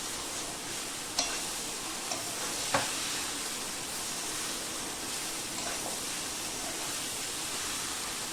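Potatoes and spices fry and get stirred in a pan for an egg tadka, giving a steady, soft sizzle with a few faint scrapes and clicks from the stirring and no voices.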